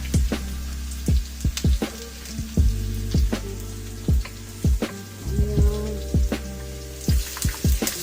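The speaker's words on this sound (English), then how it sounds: "Guapa will start by sauteing garlic, onion, and tomato in a little olive oil using our electric wok" Garlic, onion and tomato sauté in a little olive oil in an electric wok, producing a steady sizzle punctuated by frequent sharp pops and crackles as moisture spits in the hot oil.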